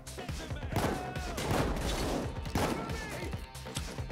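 LMG fire in Payday 2, sustained rattling bursts of gunshots fairly close, with heavy clustered volleys rising and falling over a few seconds.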